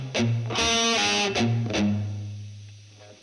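A palm-muted, heavily distorted electric guitar plays a short riff, chugging low notes broken by brief sustained chords, loud and up close, then ringing out and fading.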